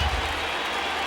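A packed baseball stadium crowd roars in a continuous wash of cheering and applause, loud and distant-sounding, during a Yankees at Rangers game.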